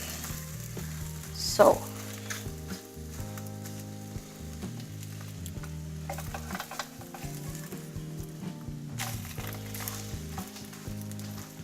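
An omelette fries in a pan for a fried rice dish, a steady sizzle running throughout with a brief louder burst early on; one short spoken word at the start.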